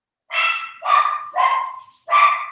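A dog barks four times in close succession, each bark loud and full, with a short pause before the last one, heard over a quiet room during a trivia game.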